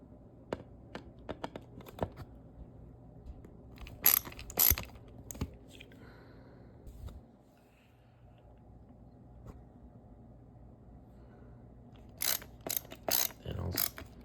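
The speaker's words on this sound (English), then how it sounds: "Now I'll screw this screw through here" Screw being driven by hand into a board of a Tribesigns Little Tree file cabinet during assembly, heard as scattered small clicks and ratcheting ticks in irregular bursts, close and fairly quiet, with a few sharper clusters near the start and end.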